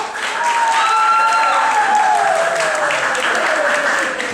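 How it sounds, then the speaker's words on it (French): Audience applause in a club setting, a dense steady wash of clapping that stays loud throughout, with a sustained vocal or whistled tone gliding over it. "Je vous demande de l'applaudir chaleureusement."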